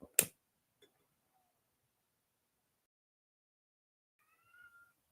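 A sharp tap opens a mostly silent stretch, then a cat gives a short, quiet meow near the end.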